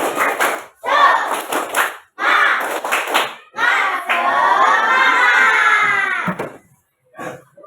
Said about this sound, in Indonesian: Kalau tidak, tepuk semangat.